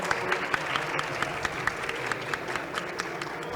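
An audience at a Spanish-language education workshop claps for a speaker, a fairly soft, somewhat distant round of applause with a few sharper individual claps standing out in a loose rhythm.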